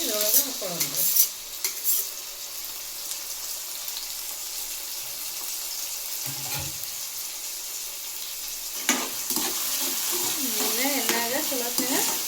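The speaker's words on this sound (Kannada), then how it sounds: "ಎಣ್ಣೆಗ ಚಲೋ ಫ್ರೈ ಮಾಡೋಣ್ರಿ" Chopped tomatoes fry in oil for a North Karnataka aloo dum biryani, giving a continuous close sizzle with a few sharp stirring knocks and scrapes against the pan.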